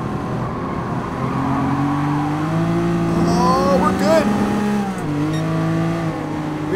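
Engine revving in GT Sport, a Ferrari flat-12 or Lamborghini V12 race car: a loud, continuous close drone climbing and falling in pitch through gear shifts, with tire noise and a driver's voice talking over it.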